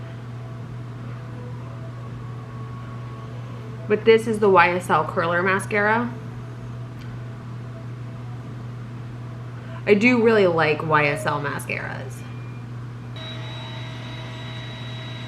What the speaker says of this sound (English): You can hear the Roomba in the background.